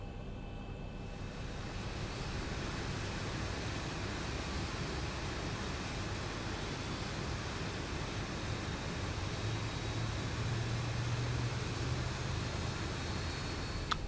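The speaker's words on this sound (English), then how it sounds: "we'll go ahead and we'll start engine number 1" Boeing 737 jet engine spooling up during start in the X-Plane 11 flight simulator, a steady broadband roar with a high whine holding level and constant from start to finish, with no voices.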